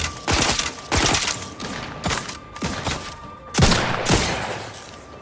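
Gunfire in the video game The Outer Worlds 2, with heavy, punchy shots landing in an uneven series of about six or seven booming blasts, each followed by a short rumbling tail.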